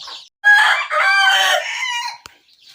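A single loud, close rooster crow from a prized fighting cock, one drawn-out harsh call with a rising start and a falling tail, followed by a brief click and quiet.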